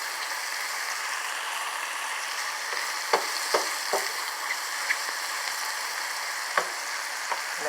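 Spinach and mushrooms sauté in a pan as a steady close sizzle, with a few sharp stirring clicks and scrapes scattered over it and no talk.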